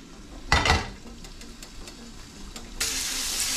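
Melted butter bursts into a sharp sizzle as something is set in the pan, fades to a low crackle, then rises again into a loud sustained hiss near the end, with light utensil clinks.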